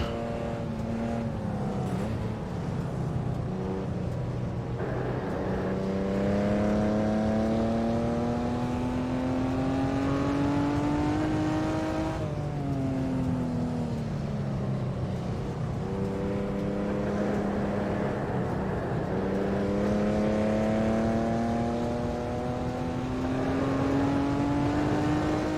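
A 1958 race car on an out lap at Goodwood, with its engine heard loud and close as it repeatedly revs up through the gears and then drops off, in long rising pulls with no talk.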